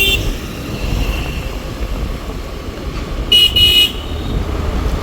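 Busy street traffic clogged by a Ganesh idol immersion procession in Bangalore, a steady rumble of engines with a short burst of honking horns near the end.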